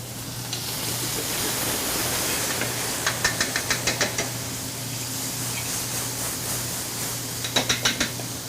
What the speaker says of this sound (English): We cook the garlic with the yellow chili